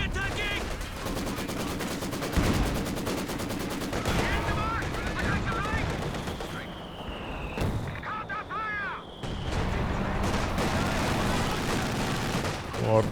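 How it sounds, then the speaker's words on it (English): Company of Heroes 2 battle with an artillery barrage pounding a machine gun position, heavy layered gunfire and booming impacts rolling continuously under a steady bed of battle noise. "Flare into barrage on the machine gun."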